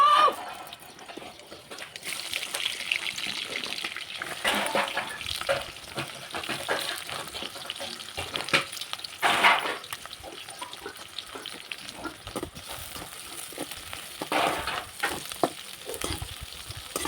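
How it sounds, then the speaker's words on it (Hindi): Vegetables with garlic are tempered in a hot pan in a village kitchen, giving an uneven sizzle and crackle mixed with clatter of stirring and occasional splashy water noises, heard close by. "तो चलिए इसको बघार देते हैं"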